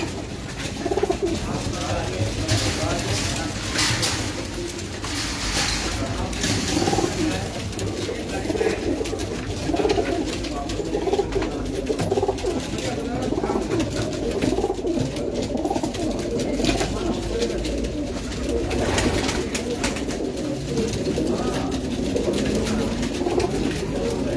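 Pigeons coo steadily on a rooftop pigeon loft, the paired birds' soft murmuring calls running throughout alongside scattered outdoor noise, with someone talking intermittently over them.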